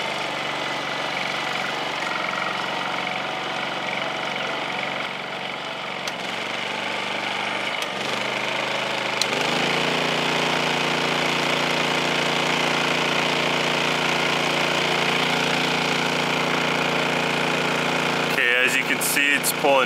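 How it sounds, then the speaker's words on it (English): Honda EU3200i and EU2200i inverter generators running under the load of a space heater, a steady engine drone that steps up louder near the ten-second mark and holds, under occasional talk. "and this generator is rated for 1800 running watts."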